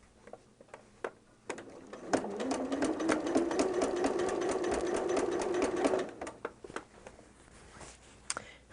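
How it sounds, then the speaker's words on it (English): A sewing machine stitches fabric in one steady run of rapid, even needle ticks lasting about four seconds, nearby and fairly quiet, with scattered small clicks before and after. "let's sew and see how this works"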